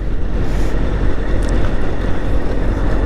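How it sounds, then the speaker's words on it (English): Strong wind on a super windy road while riding roars and buffets against the microphone, a loud continuous rumble with gusty fluctuations and no voices. "Now we're back to this super windy road."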